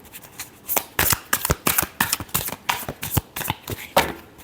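A deck of tarot cards is riffled and shuffled by hand in a quick run of crisp, close flutters and snaps, about a dozen sharp bursts with no talking.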